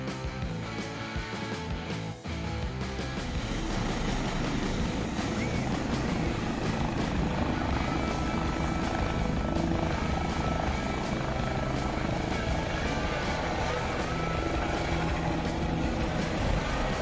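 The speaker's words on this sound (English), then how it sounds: "whether he assumed that today his task would be to land the helicopter on a huge rock in the mountains" A helicopter landing on a huge rock high in the mountains, its rotor and engine roaring loud and steady throughout with a dense, continuous wash of noise.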